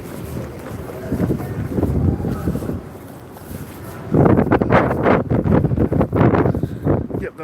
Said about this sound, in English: Braving this wind.